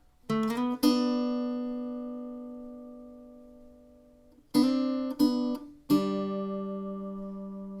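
Guitar picking the opening part of a song: a quick run of plucked notes rings out and sustains for several seconds, then three more plucked notes follow in close succession, each left to decay cleanly.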